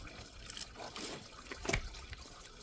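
Coolant draining out beneath a Hummer H3 engine during front timing chain and water pump work, a faint, steady watery trickle and splash with a brief louder spatter partway through.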